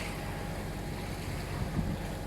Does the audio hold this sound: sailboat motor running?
yes